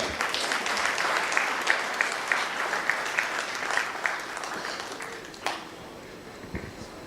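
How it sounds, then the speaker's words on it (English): A conference audience in Goa applauds steadily, a dense patter of clapping that thins out and fades toward the end. "Ladies and gentlemen, a huge round of applause to Dr. Ajit Gunjikar."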